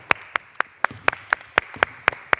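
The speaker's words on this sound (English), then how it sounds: "Clap it up, clap it up." A basketball team claps in unison after a layup bowling warm-up drill: about ten sharp, evenly spaced claps, loud and close, with a steady rhythm.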